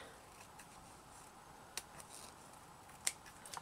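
Scissors trim the ends of a handmade ribbon appliqué, a couple of quiet, crisp snips spaced apart against a faint, quiet room.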